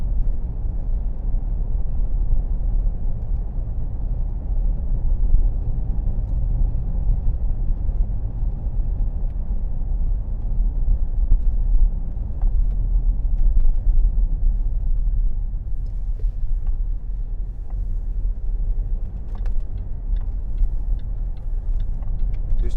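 A 2013 Range Rover Sport Black Edition cruising on a motorway, with a steady, loud low rumble of road and engine noise heard from inside the cabin throughout, plus faint ticks.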